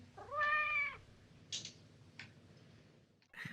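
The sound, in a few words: cat meowing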